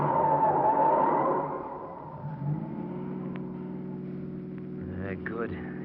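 A car engine revs and then settles into a steady, low rumbling drone as the car trails close behind, a sound effect in an old mystery radio drama.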